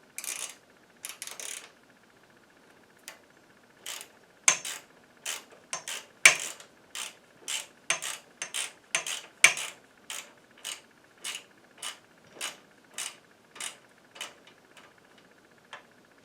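A ratchet wrench with a short extension drives Phillips screws into the plastic housing of a Weslo Aero 800 exercise bike, clicking in a steady run of short, evenly spaced bursts, close and clear.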